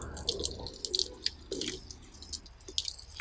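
Rice water fertilizer poured over garden plants like a shower, giving soft wet patters and drips on leaves and soil, with irregular splashy bursts close by and no talk.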